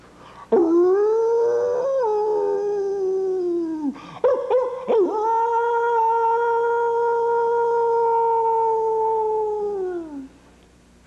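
A hound dog lets out long, drawn-out howls, rising then holding steady before tailing off, loud and close, with a short break of yips and whimpers between two sustained howls and no talking.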